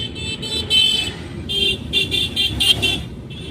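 A car horn on a double-lane highway gives a string of short toots in an uneven rhythm, loud and close over the rumble of the moving car.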